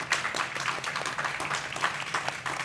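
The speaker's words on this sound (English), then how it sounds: "I just think a huge round of applause for this incredible panel" An audience at a panel discussion on the social and political side of liberation applauds, a dense, steady wash of many hands clapping throughout, fairly loud and with no voices over it.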